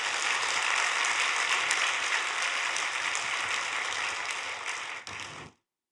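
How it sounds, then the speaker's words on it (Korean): A church congregation at a revival service applauding together, a dense steady wash of many hands clapping that holds for about five seconds and then cuts off. "영광의 박수 올려드리겠습니다."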